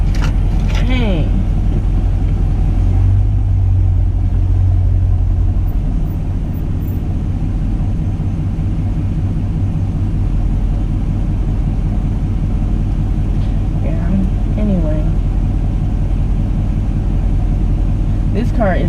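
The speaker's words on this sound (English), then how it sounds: "This car is really fun to drive" Chevrolet Camaro SS on the road, its engine a steady low droning rumble throughout with some road noise, while people talk in the cabin over it.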